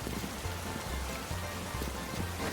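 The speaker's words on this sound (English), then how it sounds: "Or maybe it's the rain that's loud." Rain from the Pokémon Legends Z-A video game falls in a steady, dense hiss that fills the scene, with a low rhythmic musical hum pulsing underneath.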